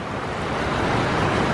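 Creek water rushes steadily close by, a dense, even roar with no breaks and no voices over it.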